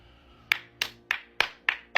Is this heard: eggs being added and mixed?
no